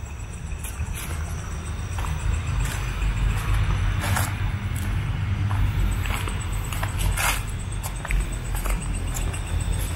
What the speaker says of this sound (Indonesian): kalian masih mendengar suara lalu lalang mobil, truk, motor lewat ya